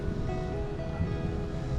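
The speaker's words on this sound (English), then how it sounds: "As you can see, it's kind of windy." Steady wind buffets an outdoor drone flying field in a continuous low rush, with no talking.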